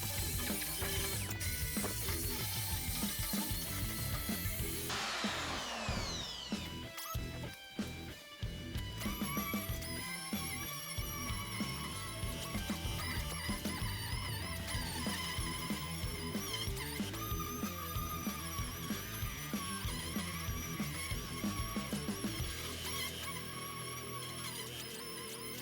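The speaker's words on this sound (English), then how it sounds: "Give it the old brat brat with the rotary sander." An air-powered dual action rotary sander works over a retro gaming console build, a continuous whirring grind with shifting pitch. It runs steadily and close throughout, with brief rattling catches near the start.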